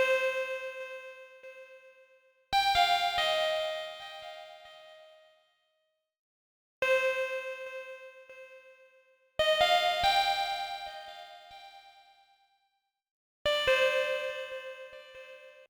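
Bell-like synth preset from Analog Lab playing a sparse melody in a hard trap beat: a few bright, struck tones, each ringing and decaying clearly, separated by short silent gaps.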